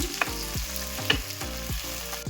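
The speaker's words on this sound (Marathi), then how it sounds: "आता याला छान फ्राय करून घेऊयात आपण" Chopped tomatoes sizzle and fry in a hot pan for chutney, a steady crackling hiss with a few stirring scrapes, close and continuous with no talking.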